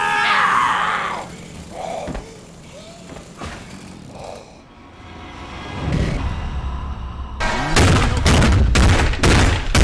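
Rapid gunshots from Resident Evil 7 Biohazard during a fight with Mia, a loud cluster of sharp cracks late in the moment after quieter thuds, whooshes and rumbling game sounds.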